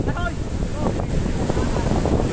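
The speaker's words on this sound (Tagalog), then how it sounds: "Palayo na palayo pero malakas na malakas ang hangin." Strong typhoon wind blows across an island shore, a loud, dense, gusty roar that buffets the microphone without letup, with a voice speaking over it.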